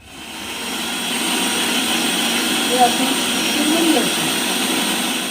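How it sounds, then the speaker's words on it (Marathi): A kitchen mixer grinder blends hand-ground sandalwood paste in a loud, steady whir that holds for several seconds at close range, with no talk. "आणि मग ते मिक्सरमधनं काढा"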